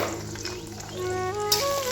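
Two eggs seasoned with salt and ground pepper fry in a pan for restaurant-style egg chow mein, giving a steady, close sizzle with faint stirring and clinking, and no one speaking.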